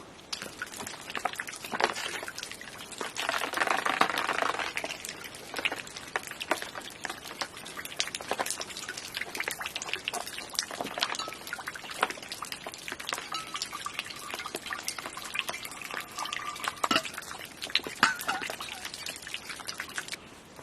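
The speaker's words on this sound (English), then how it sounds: "There's a little trickling waterfall off this ridge, so I think it's time to fill up the water bottles." A small trickling waterfall off a ridge in the wilderness fills water bottles, a continuous close splash and dribble with scattered drips and sharper spatters throughout.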